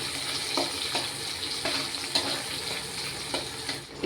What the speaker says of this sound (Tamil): இப்போ வந்து வெங்காயம் போட்டுடலாம்.